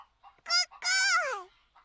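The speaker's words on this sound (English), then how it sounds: "What was important were the chickens she was raising." Animated chickens cluck in an anime episode, a pair of sharp, high, nasal squawks followed by a faint short cluck, close and alone.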